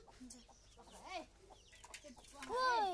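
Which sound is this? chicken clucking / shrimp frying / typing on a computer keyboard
chicken clucking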